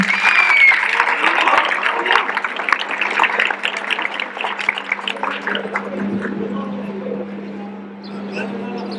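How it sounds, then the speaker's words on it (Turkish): An audience applauds at a high school cap-throwing graduation ceremony. The clapping is dense and sustained, then thins toward the end over a steady electrical hum. "okul birinciliğini elde eden Rüveyda Şentürk öğrencimizi alkışlarınızla sahneye davet ediyorum"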